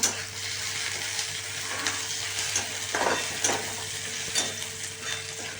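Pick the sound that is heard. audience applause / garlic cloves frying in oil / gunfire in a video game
garlic cloves frying in oil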